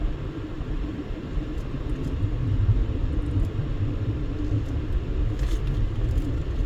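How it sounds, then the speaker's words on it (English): Steady rumble of road traffic in North Las Vegas, cars passing continuously at moderate distance with a low engine drone; no voices. "And we get traffic. Lots and lots of traffic."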